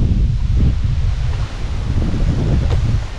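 Strong gusts of wind roar across a field of bitter gourd (ampalaya) plants, a steady low rumble with rustling leaves and buffeting against the microphone, loud and continuous without speech.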